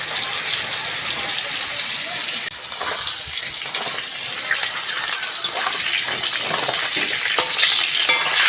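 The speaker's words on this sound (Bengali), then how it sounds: "প্রথমেই বন্ধুরা পটল আর আলুটা ভালো করে ভেজে নেব" Pointed gourd and potato pieces fry in hot oil with a steady, dense sizzle that grows slightly louder toward the end, with occasional stirring scrapes and no talk.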